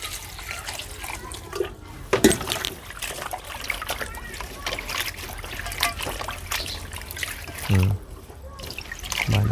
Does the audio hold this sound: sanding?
no